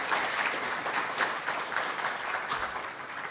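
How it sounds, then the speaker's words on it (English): Church congregation clapping at an in-gathering service, a steady round of applause from a moderate crowd, sustained and even for a few seconds with no clear speech over it. "Please stand and let's give them a round of applause."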